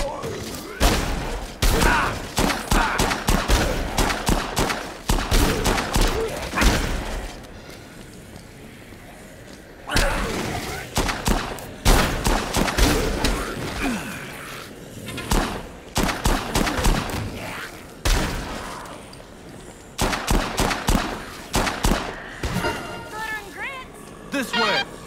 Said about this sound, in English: He keeps shooting her.